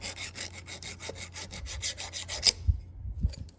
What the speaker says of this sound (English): if the tooth sticks out, you need to file it down some